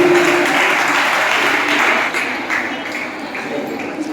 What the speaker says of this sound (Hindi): आइए आप जोरदार तालियों से स्वागत करें।